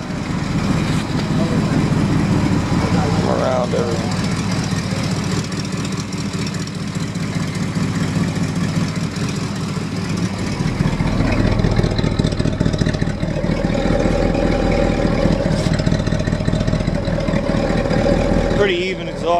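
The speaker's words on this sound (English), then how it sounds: "here you can hear it idle a bit." A 1968 Corvette engine idling, a steady low rumble that runs throughout, with a person speaking briefly over it.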